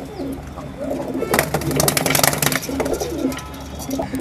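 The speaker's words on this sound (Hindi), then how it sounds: "बहुत से जंगली कबूतर हमारे लॉफ्ट के अंदर में आए" Wild pigeons in a home pigeon loft coo and call, with steady low cooing notes running throughout and a busier burst of bird activity in the middle; faint voices can be heard beneath.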